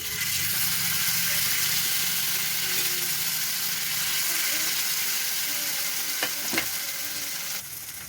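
Small fish frying in hot oil in a home kitchen, a loud, steady sizzle and crackle that runs throughout with a few sharp spatters near the end.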